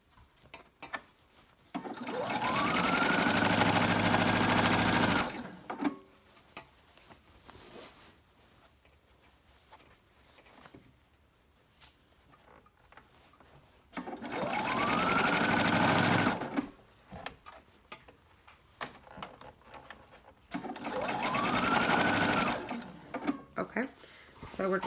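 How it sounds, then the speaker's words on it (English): A sewing machine stitches fabric for a Cricut Maker dust cover in three separate loud bursts of rapid whirring, each ramping up to speed, with quiet pauses and fabric handling between runs. "Go forward a few stitches, back stitch, come forward."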